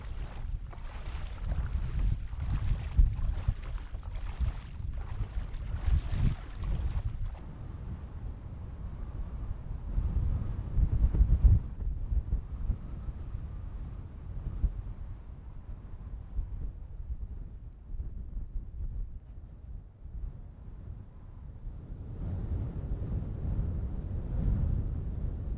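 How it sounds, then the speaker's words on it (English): Strong wind buffets the microphone on a sand dune at Neguac Bay in New Brunswick, a loud, continuous low rumble with gusty roaring that briefly eases midway and then builds again. "I wish the wind would die down."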